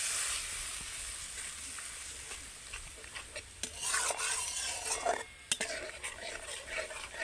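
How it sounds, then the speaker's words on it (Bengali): A mustard-poppy seed spice paste with a little water is stirred and fried over very low heat in a pan, a soft steady hiss with scraping spatula strokes and light clinks, close and alone. "এইভাবে নেড়ে নেড়ে কিছুক্ষণ কষিয়ে নিতে হবে খুব অল্প জালে মশলাটাকে খুব ভালো করে কষিয়ে নিয়েছি"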